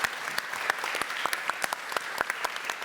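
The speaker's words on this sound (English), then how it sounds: "Let's have a round of applause" Audience applause in a theatre at a BBC inclusion event, a steady wash of many hands clapping with sharp individual claps standing out, moderately loud and without talk.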